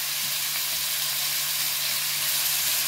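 Chicken thighs pan-frying as the second side browns, a loud, steady, close sizzle of hot oil with no pauses.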